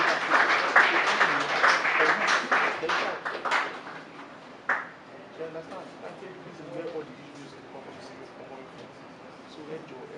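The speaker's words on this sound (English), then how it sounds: "With a round of applause, please welcome Mr. Olamide" An audience at a drone imagery and LIDAR mapping workshop claps to welcome a speaker. The applause is a dense burst that gradually thins out and fades, with a voice sounding faintly beneath it.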